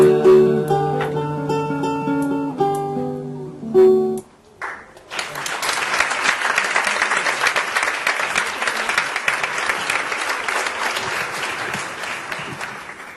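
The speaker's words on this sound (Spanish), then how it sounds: "el aplauso es para el equipo de Paysandú que hizo la grabación" Music with a sung voice ends, then after a brief pause a large crowd breaks into sustained, loud applause that continues steadily to the end.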